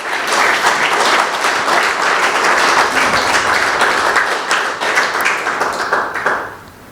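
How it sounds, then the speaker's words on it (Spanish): Members of a Spanish-speaking church congregation clap together for a long, loud, steady stretch of rapid overlapping hand claps, which then taper off and fade out at the end. "Dele palmas al Rey."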